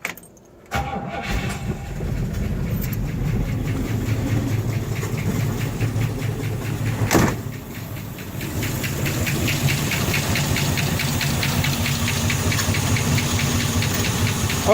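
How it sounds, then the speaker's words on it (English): A 1962 Buick Electra engine with a hydrogen generator fitted cranks and catches, then idles steadily and close with a rough knocking rhythm for the rest of the clip, with one sharp click partway through. "We got the engine started"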